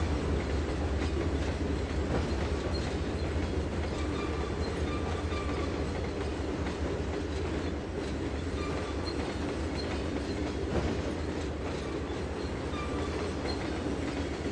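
Railcar trucks of a freight train in the Trainz 2022 simulator rumble and clatter continuously, with rhythmic clickety-clack of wheels over rail joints and occasional faint squeal, loud and steady throughout.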